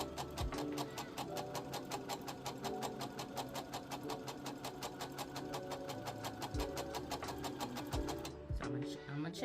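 A sewing machine back stitches white thread on scrunchie fabric, giving a loud, close, rapid and regular needle clatter that runs continuously and halts briefly near the end.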